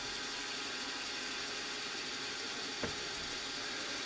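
Drill running in a machining setup, a steady mechanical whir with ratcheting gear texture that continues evenly, with one brief sharp click near the end.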